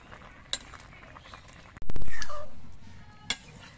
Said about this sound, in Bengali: লাউটা আর একবার নেড়ে চেড়ে দিচ্ছি।